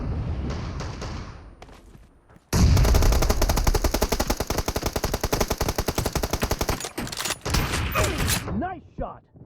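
Video game gunfire from PUBG Mobile in a shotgun team deathmatch: after a short lead-in comes a loud, dense burst of rapid automatic shots for several seconds, then a few scattered shots and effects.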